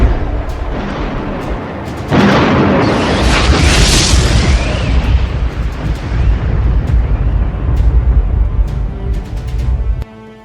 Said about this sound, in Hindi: वीडियो में ईरान की मिसाइलों के हमले से मचने वाली तबाही दिखाई गई है।